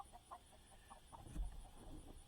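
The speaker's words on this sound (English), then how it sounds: "Chickens out here eating through the turkey poop." Chickens clucking outdoors while feeding among turkeys on a farm, short soft clucks and calls scattered through a quiet, distant background with a faint low rumble, no one speaking.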